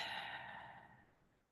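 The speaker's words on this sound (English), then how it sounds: "I invite you to just take a deep breath." A single deep breath, drawn in and released as a soft, airy rush that fades steadily over about a second and a half, close and quiet.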